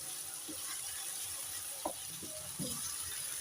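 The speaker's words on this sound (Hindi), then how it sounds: "गोश्त के साथ यहाँ पर लहसुन अदरक की अच्छी सी भुनाई हो रही है।" Meat with garlic and ginger fries in a pot, producing a steady, low sizzle with a few soft stirring clicks and scrapes, faint and continuous, with no talk over it.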